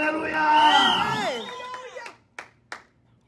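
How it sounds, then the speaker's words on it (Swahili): A church congregation's voices rise in loud, wavering cries, then fade into a few sharp, separate hand claps spaced apart near the end. "Hebu nisikie vigelegele na makofi kwa Yesu."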